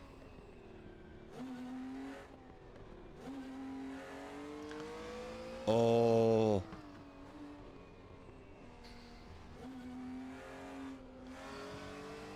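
Volkswagen ID R electric race car driven on the Nordschleife in the RaceRoom racing game, a steady whining motor tone that rises and falls through the run, with a brief much louder burst midway.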